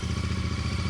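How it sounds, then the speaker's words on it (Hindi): Royal Enfield Continental GT 650 twin-cylinder engine thumping steadily on a ride, a close, even pulsing rumble with no voices. "मित्रों चलिए आपको इस बाइक का एक राइड रिव्यू देता हूँ।"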